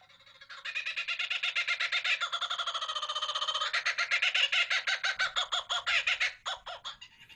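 A loud kookaburra call, played back into a microphone, rises into rapid, rhythmic cackling laughter, sustained for several seconds before breaking off, with no talk over it.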